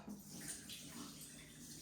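Cloudy rinse water pours off quinoa in a kitchen as a faint, steady watery rush with no one talking.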